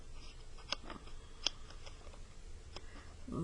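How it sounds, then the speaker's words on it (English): Scissors snip the corners off a paper letter cutout, a few quiet, sharp clicks spread irregularly over a soft background hush. "We are going to cut all 4 corners"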